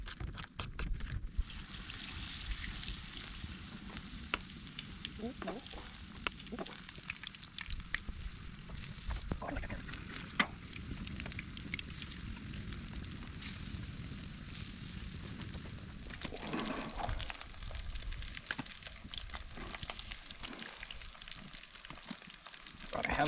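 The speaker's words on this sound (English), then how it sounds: "I got a pan of oil on the fire." Cooking oil heats in a pan over a lakeside campfire, giving off a continuous low sizzle mixed with crackling wood and scattered pops, close and fairly quiet.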